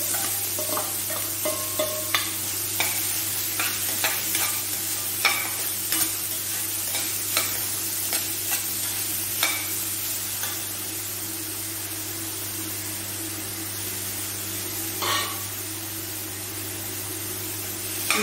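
Onions fry in a hot pan for soya gravy, giving a steady dense sizzle throughout with scattered sharp clicks and scrapes of stirring, close and fairly loud.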